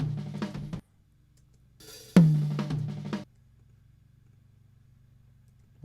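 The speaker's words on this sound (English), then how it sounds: "So without any plugins, the first tom sounds like this." A raw, unprocessed first tom drum from a recorded kit, struck a few times with full-bodied hits separated by gaps and some ringing decay, alone without talk.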